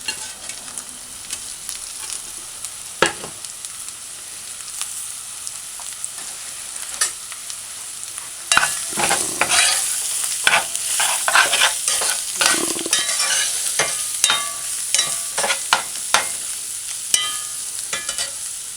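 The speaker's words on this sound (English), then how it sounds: "Just allow it to fry for about a minute or 2." Veggie chunks frying in oil in a pot on a stove set to medium high, with a soft steady sizzle and, after a quiet start, repeated scraping stirs and clanks close by.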